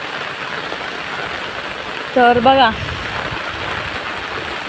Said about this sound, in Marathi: पाऊस लागतो आहे